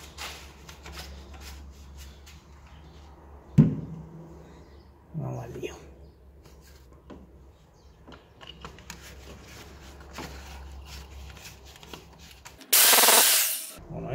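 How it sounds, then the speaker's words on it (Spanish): Soft handling and rubbing noises, then near the end a drill with a small bit whirs loudly in one short burst before stopping. "voy a empezar a taladrar"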